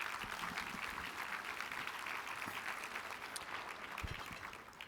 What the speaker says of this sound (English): another round of applause just to thank our sponsors.